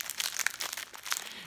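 Crinkly rustling of a plastic snack wrapper being opened, a bag of cookies, with quick crackling bursts close up and no talking.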